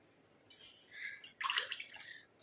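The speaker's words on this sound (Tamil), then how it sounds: "அடுத்து இதில் வந்து நம்ம ரெண்டு டம்ளர் அளவுக்கு தண்ணி சேர்த்துக்கலாம்" About two tumblers of water splash and trickle briefly as they are poured into a pan, close by and fairly quiet.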